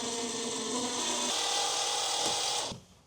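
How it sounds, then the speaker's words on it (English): A power drill drives screws upward into a magnetic shelf inside a cargo trailer. It makes a continuous whirring grind for about three seconds, the pitch drops partway through, and it stops abruptly. "now we're gonna drive up the screws from the bottom side"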